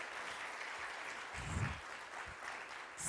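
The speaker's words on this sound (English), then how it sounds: "Let's give ourselves a round of applause." A conference audience at the Ubuntu Summit 2022 lightning talks claps together in a brief, faint, even wash of applause.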